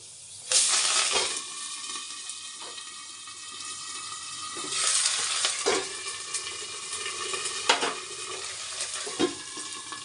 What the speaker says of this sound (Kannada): ಈಗ ಮೆಂತ್ಯ ಕಾಳು ಹಾಕ್ತಾ ಇದ್ದೀನಿ ಆಮೇಲೆ ಕರ್ಬೇವಿನ ಸೊಪ್ಪು ಬೆಳ್ಳುಳ್ಳಿ ಈರುಳ್ಳಿ